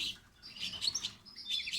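A male pet goldfinch hybrid chirps in quick, high tweets, a few bursts close by over a quiet background.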